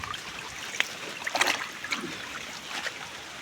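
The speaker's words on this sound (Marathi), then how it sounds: "हा बघा केवढा लोंढे आला तो, अख्ख्या पर्याचा पाणी." A surge of water runs through a freshly cleaned field irrigation channel, a soft steady trickle and gurgle with scattered splashy bursts, fairly faint and unbroken by talk.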